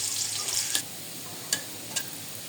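Garlic fries in a pan as it turns brown, giving a steady, soft sizzling hiss broken by a few sharp clicks, likely from stirring, with no talking.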